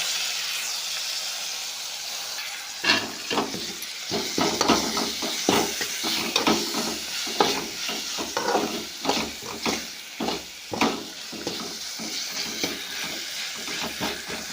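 Green chillies frying in a pan crackle softly at first, then a run of stirring scrapes and clatters sounds as tomatoes go in, moderately quiet with no talking.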